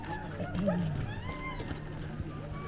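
Several sled dogs in Denali National Park, Alaska, yelp and whine in excited, rising cries, close by, over a busy outdoor background.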